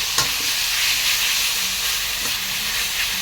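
Pork and curry paste stir-frying in a wok for a pork and bean curry stir-fry, a steady loud sizzle and hiss with occasional light scrapes, no talking.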